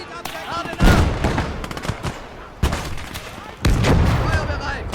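Rapid bursts of gunfire fill a Fall of France battle video game, loud and close. Three dense volleys, each heavy with booms and crackling shots, come in quick succession.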